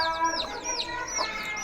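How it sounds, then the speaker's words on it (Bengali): Native desi chicks cluck and peep softly nearby in a farmyard, with several overlapping short chirps, fairly faint and alone without talk. "আমাদের দেশি মুরগি বাচ্চাগুলো খুব ভালো আছে"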